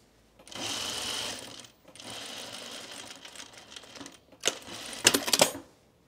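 A sewing machine stitches a men's tropical shirt in two bursts of fast, steady whirring, separated by a short pause, then gives a few sharp clacks and a final quick run before stopping.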